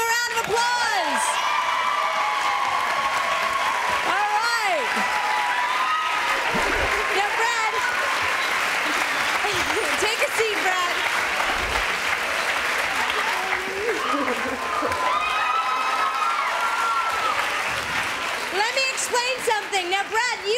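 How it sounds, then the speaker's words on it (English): A TV talk show studio audience claps, whoops and cheers continuously for a guest returning to the stage, loud and sustained, with excited shouts and voices rising above the applause. "Let's give him a round of applause."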